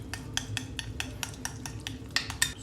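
Pizza sauce seasoned with black pepper, thyme and salt being stirred briskly with a utensil in a bowl, a steady run of close, rhythmic scraping and clinking strokes with no talk.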